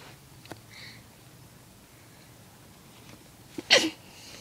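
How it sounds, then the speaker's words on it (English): A single short sneeze bursts out near the end, close and fairly loud, following a few seconds of quiet room noise with a faint click early on. "I just sneezed."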